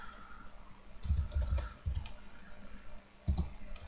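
Someone types a fastboot command on a computer keyboard, close clicking keystrokes in quick uneven bursts separated by short pauses, over low room hum; no speech.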